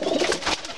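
Pigeons kept in a loft coo in soft, rolling murmurs, several birds overlapping close by for under a second with no other sound.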